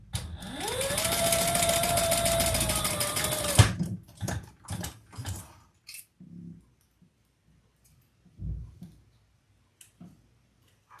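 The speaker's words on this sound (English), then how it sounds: "we're going to stitch across that line and then baste the sides in place" A sewing machine stitches a crossbody bag, running at a steady, loud whir for several seconds before stopping, then a few quieter bursts and clicks follow.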